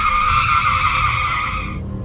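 A car skidding hard to a sudden stop, used as a horror-story sound effect: a loud, sustained tyre screech that holds steady for almost two seconds, then cuts off abruptly, with no voices.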